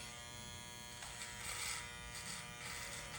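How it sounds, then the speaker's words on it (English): Electric hair clipper buzzing steadily while a barber shaves during a self-cut, with a continuous close-up hum that swells slightly midway and no talking. "you just kind of want to move the clipper in whatever direction it needs to be moved in"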